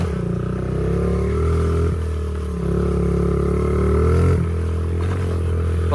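A cheap 650-dollar pit bike with an added air filter is ridden, its small engine droning steadily up close with rises and falls in pitch as the throttle changes, plus a few rattles and no talk.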